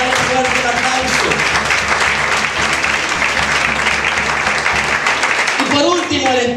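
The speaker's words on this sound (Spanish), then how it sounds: "si nos pueden dar un fuerte aplauso" A church congregation claps loudly and continuously during a Spanish-language service, a thick wall of applause with voices and tonal sounds rising over it, briefly thinning near the end.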